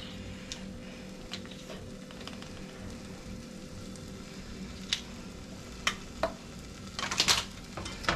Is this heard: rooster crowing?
no